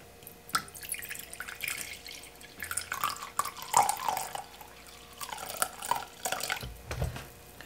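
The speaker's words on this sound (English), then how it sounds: "we're gonna put 6 ounces of Dawn or generic Dawn into the bottle" Dawn dish soap is poured into a bottle, giving soft intermittent trickles, drips and small plastic clicks, faint and close, with no talking.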